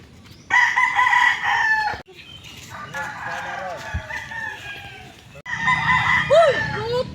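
Chickens cluck and a rooster crows loudly and close by, in several bursts with short gaps between them, while people talk in the background.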